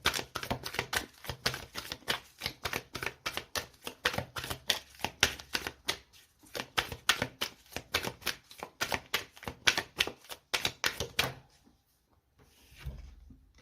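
Tarot cards being drawn and laid out make a rapid run of dry, close clicks and snaps, steady for about eleven seconds before falling quiet, followed by a faint soft rustle.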